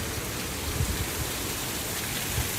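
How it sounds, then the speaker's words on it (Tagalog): Heavy rain in Antipolo City pours continuously in a dense, steady hiss, leaking indoors where there is no gutter, with occasional heavier drops thudding on a surface nearby. "Kaya pumapasok yung tubig ulan."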